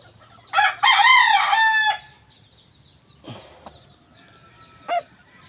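A small talisain gamecock crows once, loud and close, with a long drawn-out call, followed by a couple of shorter clucking calls.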